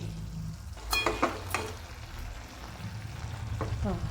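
Snake gourd bhaji cooking in a pan over low gas, giving a soft, steady sizzle broken by a few close stirring scrapes and clinks near the start.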